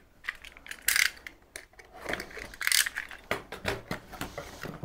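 Cardboard box for a Worklift vertical monitor stand being opened, with crisp bursts of tearing and rustling packaging, sharp rattles and small knocks in an uneven rhythm, close and fairly loud.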